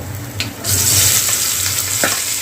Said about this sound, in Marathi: आता आपल्याला ना कांदा जो आहे तो चांगला असा ब्राऊन कलरचा होईपर्यंत आपल्याला चांगला तेलामध्ये फ्राय करून घ्यायचा आहे